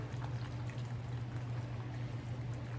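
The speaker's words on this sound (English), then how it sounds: "I'm going to add cream. So I'm gonna add about half a cup of cream" Cream poured into a hot pan of cheese soup, a soft, steady liquid pour with a low simmering hum underneath, continuous and fairly quiet.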